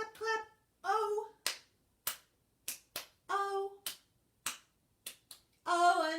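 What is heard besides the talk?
hand clapping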